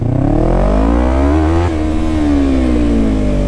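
A loud motorcycle engine revs up, its pitch climbing steadily, then dips briefly and rises again in a sustained, close roar.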